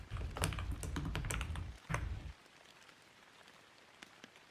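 Close typing on a computer keyboard while writing web development code, a dense clatter of keystrokes for about two seconds that then stops, leaving a few faint isolated taps.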